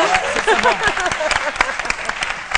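A television studio audience breaks into brief, uneven applause, the scattered claps mixed with lively chatter and voices talking over them.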